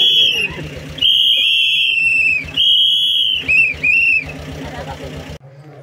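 Whistles blown at an independent candidate's election campaign rally in Sivaganga, Tamil Nadu: several long, shrill blasts in a row with short gaps between them, loud and close over a low engine hum and crowd noise.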